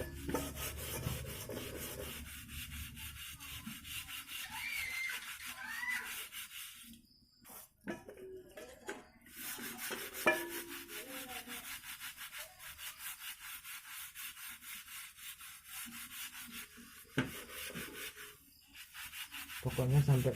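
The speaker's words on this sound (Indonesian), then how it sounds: "kita gosok pakai sabun sama sikat, jadi biar karetnya semua keangkat" A brush with soap scrubs a traditional heirloom blade during a Jamasan Pusaka cleaning ritual, making continuous close rubbing and scraping strokes in irregular bursts with brief pauses.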